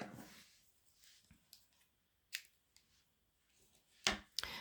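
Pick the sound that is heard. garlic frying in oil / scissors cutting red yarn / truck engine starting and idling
scissors cutting red yarn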